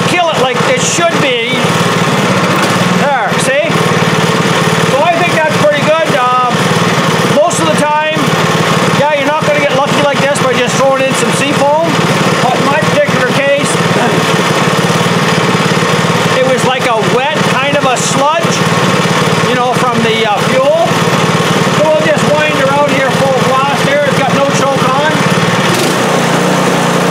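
A snow blower engine treated with Seafoam runs loud and steady up close, its pitch wavering and surging as the choke is worked, with no speech over it.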